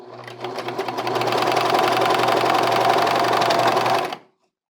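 A serger sewing machine runs steadily for about four seconds, stitching while its knife trims the seam allowances, a loud continuous whirring buzz that stops abruptly at the end.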